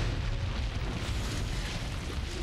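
Explosive charge detonated in the ground to simulate point detonation, a loud sustained roaring blast with heavy low rumble filling the whole moment, no voices.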